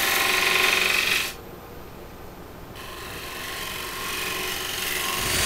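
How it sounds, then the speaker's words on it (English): A wooden platter spins on a lathe while being sanded, giving a steady whirring hiss that drops to a quieter hum midway and then builds again, close and with no talking. "Now sanded to 320 grit."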